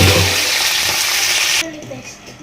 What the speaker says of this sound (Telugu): ఉల్లిపాయలు బాగా ఫ్రై అయ్యి చికెన్ వేసుకుంటున్నాను.